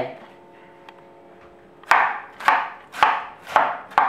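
Five sharp knife chops through cabbage on a cutting board, evenly spaced about half a second apart after a quieter stretch of low kitchen background noise.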